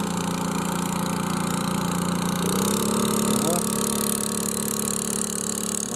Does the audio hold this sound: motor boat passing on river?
yes